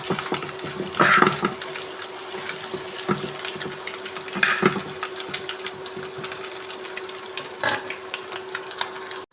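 Egg and pappad thoran stirred in a pan: a low sizzle with intermittent scraping strokes of the spoon, a few louder bursts spaced several seconds apart, close and without talk.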